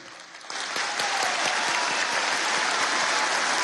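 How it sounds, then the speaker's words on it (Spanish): Standing ovation at a graduation ceremony: dense, loud crowd applause swells in after half a second and holds steady and sustained to the end. "tenemos que pararnos todos y dar una ovación por la victoria de Cuba"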